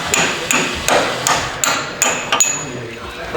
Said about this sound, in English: you gotta hit it hard enough that you actually make this hammer bounce